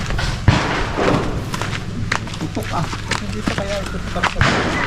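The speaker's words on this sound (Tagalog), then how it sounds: "Baka may nagbabarila na dyan. Dapa tayo, dapa. Baril nga." Sharp gunshot-like thuds crack out near a house, one loud report early and another near the end, with scattered smaller knocks in between and people talking throughout.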